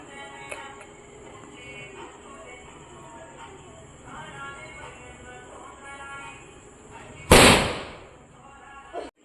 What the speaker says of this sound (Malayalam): ഇപ്പം ഓലപ്പടക്കം പൊട്ടിക്കണം